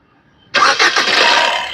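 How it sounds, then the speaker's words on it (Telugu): A 2017 Maruti Suzuki Ertiga VDI diesel car cranks and catches at once on a single start, then settles into a loud, steady engine idle close by, with no talking. "చూసారు కదా సింగిల్ సెల్ఫ్ లో కార్ స్టార్ట్ అవుతుంది."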